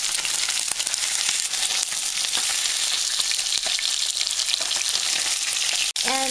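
Salmon sears in a hot frying pan, a loud, dense, unbroken sizzle and crackle held close for several seconds, briefly cutting out near the end, with no voices.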